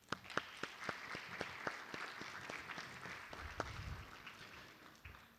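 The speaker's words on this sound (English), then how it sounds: "Please assist me in offering a collective round of applause as well for you all." A lecture audience at a student lecture series gives a round of applause, starting with distinct individual claps that swell into steady clapping, then tapering off and fading toward the end.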